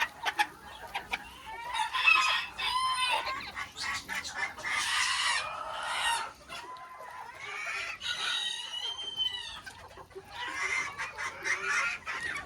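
Chickens in a coop on a farm cluck and squawk in overlapping bursts, with a rooster crowing loudly through the flock noise.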